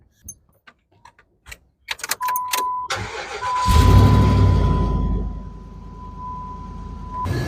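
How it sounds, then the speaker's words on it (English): A Dodge Dakota 4.7 engine, just fitted with a new water pump, is heard after several clicks and rattles of keys: the starter cranks, the engine catches and then idles loudly and steadily close by, with a faint whine running through. "we're gonna have to start her up and let her circulate so we can get the rest of it back in"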